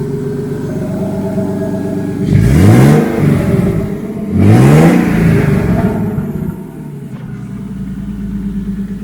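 A turbocharged BMW E36 engine with a newly installed blow-through MAF is revved twice, each rev climbing and falling back to a rough, loud idle up close, with no speech.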